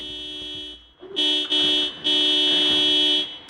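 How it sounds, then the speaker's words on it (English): A car horn in the video game Project Zomboid blares in long sustained honks with brief breaks, loud and electronic-sounding, with a short tone before the main blasts. "I resorted to driving around and honking like a maniac"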